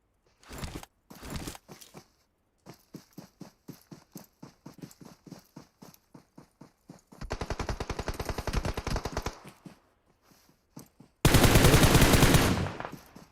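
Bursts of rapid gunfire in PUBG Mobile, single shots and rattling automatic volleys separated by brief gaps, ending in a loud sustained burst.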